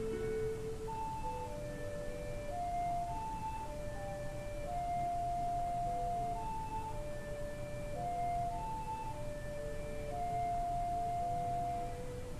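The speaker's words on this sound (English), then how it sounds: "Playing these little ocarina songs is a big part of the two Nintendo 64" A simple ocarina melody from The Legend of Zelda: Majora's Mask, sustained, pure flute tones over a steady background hiss, notes rising and falling slowly at a moderate pace.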